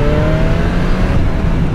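A new BMW S1000R motorcycle revs hard and shifts through gears, a loud, close engine howl with rising pitch steps between shifts.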